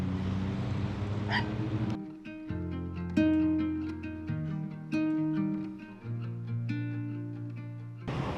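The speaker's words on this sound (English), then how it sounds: "There are dogs." Several sharp barks from dogs along a seaside spot in Athens, Greece, repeated in an irregular burst over a low background hum, fairly close and clear.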